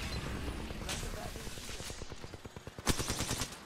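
Rapid automatic gunfire from an Apex Legends firefight, a dense stream of evenly spaced shots building to a louder burst near the end, with a voice speaking underneath.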